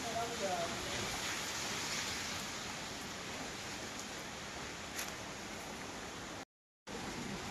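Rain falls outdoors on a street in Shyambazar as a steady, dense hiss that fills the whole span and is briefly cut to silence near the end.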